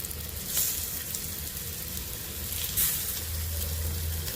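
Patties frying in oil make a constant close sizzle with a few brief crackling bursts and light stirring, with no talk.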